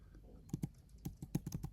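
Scattered keystrokes on a computer keyboard: roughly eight soft, close clicks in under two seconds, uneven in rhythm, with no voices.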